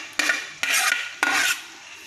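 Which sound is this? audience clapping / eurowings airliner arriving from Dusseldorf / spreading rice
spreading rice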